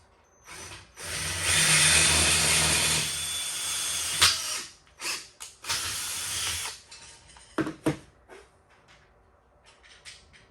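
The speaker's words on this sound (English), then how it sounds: "I'm going to use my reamer, and we'll see how that goes." A reamer enlarging a drilled hole: a sustained high whirring burst of about three seconds, then several shorter grinding spurts and clicks, close up with no talking.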